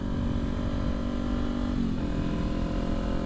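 A 2023 Kawasaki Ninja 400 motorcycle engine drones steadily while riding, a loud continuous hum with rushing wind noise and a slight dip in pitch partway through.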